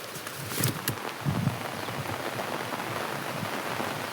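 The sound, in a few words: rain falling in the forest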